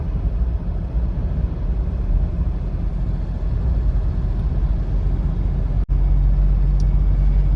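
A Mahindra Bolero Neo N10 SUV cruising in fifth gear on a highway gives a steady, close cabin rumble of engine and road noise that runs throughout, with one brief dropout near the end.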